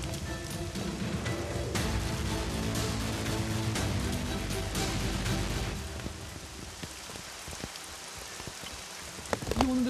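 Rain falling steadily on a rooftop garden construction site, a dense patter of drops that thins out partway through, with sharper individual splashes and a few knocks near the end, no talk.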